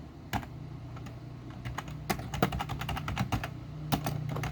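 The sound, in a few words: typing code on a computer keyboard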